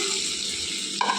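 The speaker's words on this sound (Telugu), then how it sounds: "రొయ్యలు అయితే ఫ్రై అవుతున్నాయండి." Small prawns sizzle in a pan, giving a steady, even hiss of frying. A brief clink sounds near the end, and no one speaks.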